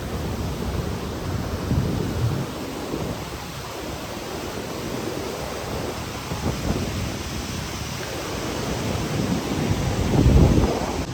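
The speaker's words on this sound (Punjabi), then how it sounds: "ਪਾਣੀ ਦਾ ਵਹਾਅ ਬਹੁਤ ਤੇਜ਼ ਆ" Rushing water roars steadily and loudly, a broad unbroken wash of noise like a fast mountain stream close by, swelling slightly near the end. A fast-flowing Himalayan mountain stream between Govindghat and Govind Dham, on the Hemkund Sahib trek, heard near a bridge.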